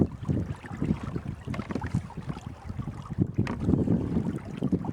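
A kayak sails in wind on a trip to Columbia Glacier, with steady gusty wind buffeting the microphone and low rumbling water noise throughout, and no voices.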